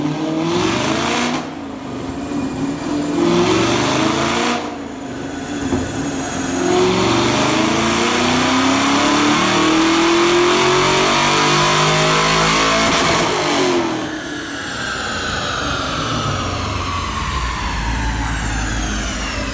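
Car engine fitted with Granatelli ignition wires, an MSD manifold and a Roto Fab intake, revving hard on a dyno: a long rising pull climbing in pitch, a brief shift dip, then climbing again, loud and close.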